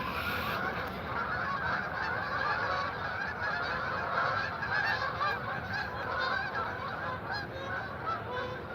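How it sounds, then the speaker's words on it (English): A flock of geese honks continuously at sunrise over water during a fishing trip, the many overlapping calls forming a dense, steady chorus at moderate distance, fairly loud with no talk. "there goes the geese"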